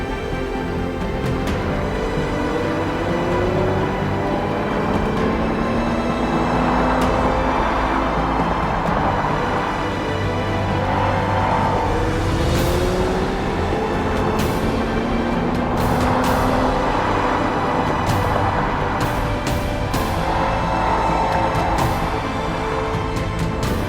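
A sports car, a Lotus Emira or C8 Corvette, drives a winding western road trip route, its engine tone rising and falling through gear changes with steady road and wind noise, loud and continuous throughout.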